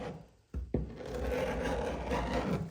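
Scraper dragging across dry, fuzzy varnish stripper on the wooden hull of a 1950 22-foot Chris Craft U22, a rough continuous rasping that starts after a brief quiet gap and a sharp scrape, loud and close.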